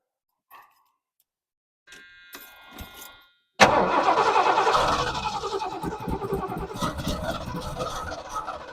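A Lincoln car that sat unused for a couple of months, fitted with a new Amazon carburetor, gives a few faint clicks and a brief starter whine before its engine fires loudly and keeps running with a rough, steady roar.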